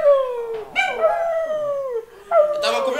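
A dog howls in long, wavering, voice-like wails, three drawn-out bursts with brief pauses, loud and close with nothing else heard.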